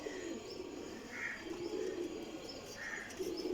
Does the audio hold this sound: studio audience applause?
no